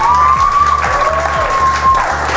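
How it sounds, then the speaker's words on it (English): A theatre audience applauds and cheers for a large stage cast, with a dense, steady wash of clapping and crowd noise filling the whole stretch at close range. "So give yourselves a round of applause."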